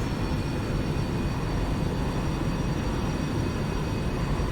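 Steady, broad engine roar from an airliner in the X-Plane 11 simulator, holding loud and even for a few seconds with no clear rise in throttle.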